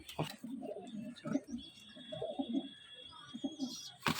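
Fulsira pigeons at a sale coo in soft, repeated low phrases close by, with a faint whistle-like tone in the background and brief rustles at the start and end.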